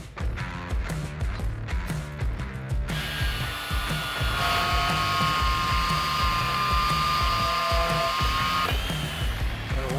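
A power saw cuts metal angle stock for a welded tray, a loud steady whine with a rhythmic chattering stretch at first, then a sustained high-pitched cutting tone for several seconds, with no talk.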